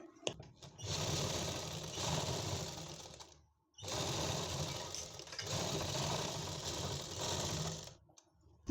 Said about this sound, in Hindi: पहले हम दोनों के आसन स्टिच कर लेंगे